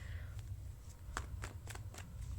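Tarot cards being shuffled by hand, a run of soft riffling flicks and taps in quick irregular bursts, faint and close over a steady low background hum.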